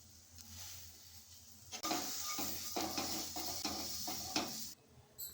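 Raw banana slices fry in a pan with a continuous hissing sizzle, punctuated by scraping and utensil clatter against the pan.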